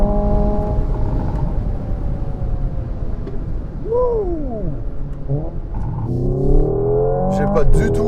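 A Hyundai IONIQ 5 N electric car with 650 hp accelerates, its synthetic engine tone climbing steadily in pitch like a revving combustion engine, with a rising whine partway through and a louder push near the end.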